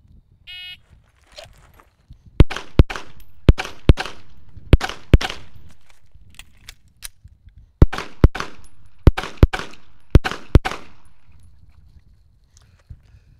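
Sharp, loud gunshots ring out in uneven pairs and quick strings during a special-operations rifle shooting drill, about a dozen in all, with no talking.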